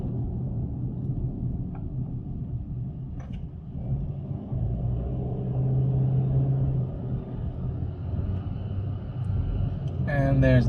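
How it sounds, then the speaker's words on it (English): A bus passes with a steady low engine rumble that grows heavier partway through, set against street background noise. "And there's the bus."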